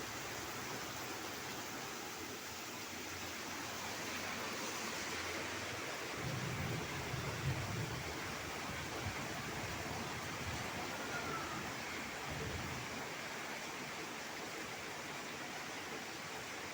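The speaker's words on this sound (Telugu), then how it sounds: "రోడ్డు మీద నీళ్ళు కాలువలాగా పారుతున్నాయి." Rainwater running along a road like a canal during a heavy rainstorm, a steady broad rushing wash that stays constant throughout, with a faint low rumble in the middle.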